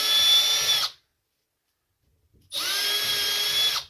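Power drill whirring loose screws from the burners of a taco trailer, two steady high-pitched runs of about a second each, close and loud, separated by a short silence.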